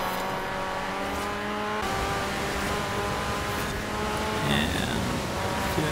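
Racing car engine in Forza Horizon 4, a steady droning roar with layered harmonic whine that holds pitch and then drops as it shifts, with a higher tone briefly joining near the end.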